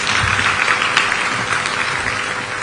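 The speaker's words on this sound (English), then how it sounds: "A round of applause." A crowd applauds, a dense, even wash of clapping that holds steady throughout, fairly loud and filling the space.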